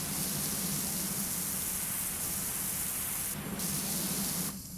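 Steady, loud hiss of a pressure washer jet spraying surfaces on an Art Deco house in PowerWash Simulator 2, continuous broadband rush with brief dips near the end.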